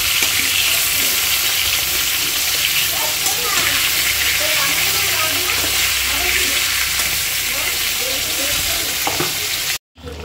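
Fish frying in a pan while being stirred, a steady loud sizzle with scraping stir sounds running throughout, ending in a brief cut of silence near the end.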